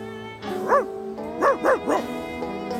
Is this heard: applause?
no